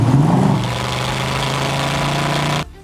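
A 1967 Chevrolet Corvette 427 engine revving loud and close, with a rising rev at the start settling into a steady rumbling drone that cuts off abruptly near the end; no voices.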